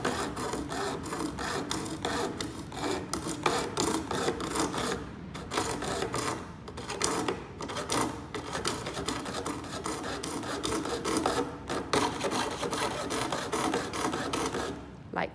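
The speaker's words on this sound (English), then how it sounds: "I'm going to keep sawing now to continue the rest of the circle." A coping saw rasps through wood cutting a circle in quick, steady back-and-forth strokes, close and continuous, with a few brief pauses between runs of cutting.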